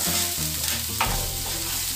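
Chopped green chilies and onion sizzle in hot oil in a pan, a dense steady hiss with stirring, close and continuous, no voices.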